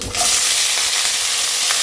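Pieces of hog plum go into hot mustard oil with mustard seeds and dried red chillies and set off a loud, steady, close sizzle, with faint stirring clinks underneath.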